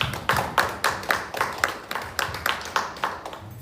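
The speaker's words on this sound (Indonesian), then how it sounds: "Beri tepukan buat Tuhan kita." A church congregation in Inanam, Sabah claps in a steady rhythm during a worship service, with about a dozen sharp, evenly spaced hand claps close by and no talking over them.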